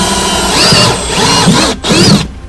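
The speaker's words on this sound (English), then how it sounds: "then drill a pilot hole here." A power drill bores a pilot hole in a caravan wall, whining loudly and close up in two bursts with a short pause between them and no voices.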